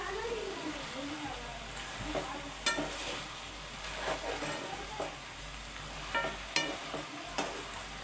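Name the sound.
tomatoes cooking in a pan for a mutton curry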